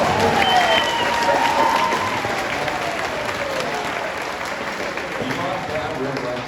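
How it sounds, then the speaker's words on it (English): Audience applause at the Flying W Ranch western music and entertainment show, a dense, sustained wash of clapping and crowd noise from many people, fairly loud throughout and easing slightly toward the end, with voices mixed in. "let's give them a round of applause."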